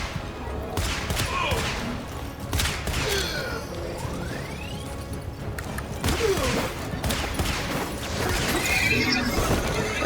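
A horse in the video game Warframe's Duviri whinnies loudly amid a dense mix of hooves, clattering combat and gunfire-like bursts, with steady game noise throughout and occasional shrill neighs rising above it.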